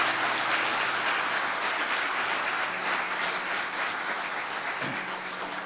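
A church congregation breaks into sustained, dense applause that fills the room evenly and fades slightly toward the end, with no speech over it.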